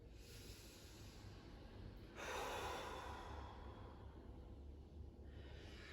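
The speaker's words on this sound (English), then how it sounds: "3 deep breaths." Slow, deep breathing during a gentle full-body movement routine, with a louder, fuller inhale or exhale near the middle and soft, steady airflow around it, heard close and alone.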